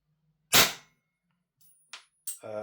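A Double Eagle Daniel Defense PCC gas blowback airsoft rifle fired at close range: one sharp report with a quick decay, then quieter mechanical clacks and a second shot near the end.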